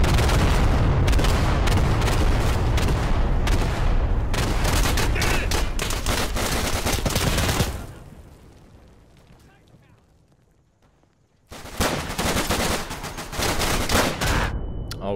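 Gunfire and grenade blasts in the World War II shooter game Day of Infamy: dense bursts of rapid shots and booming explosions, a quieter lull, then loud firing resumes.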